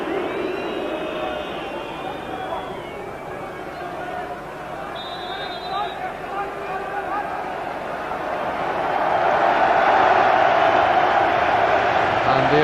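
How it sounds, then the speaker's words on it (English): A large stadium crowd at a 2001 Liverpool v Barcelona UEFA Cup semi-final applauds Robbie Fowler coming on as a substitute, a broad wash of clapping and cheering that swells louder near the end beneath a commentator's voice. "The applause"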